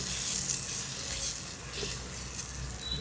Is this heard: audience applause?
no